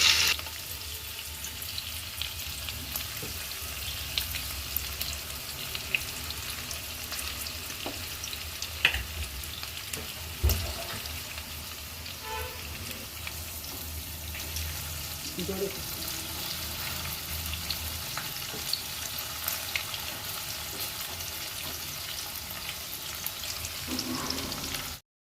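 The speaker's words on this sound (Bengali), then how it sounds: "মাঝে মাঝে একবার করে নাড়াচাড়া করে দেবো যাতে ভালো মতো ফ্রাই হয়ে যায়" Okra pieces frying crisp in hot oil, a continuous close crackling sizzle with occasional stirring clatter, steady and moderately loud throughout with no talking.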